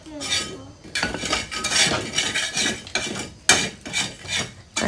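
A rolling pin works dough in quick, repeated back-and-forth strokes, making rhythmic scraping and rubbing sounds against the board, close and fairly loud.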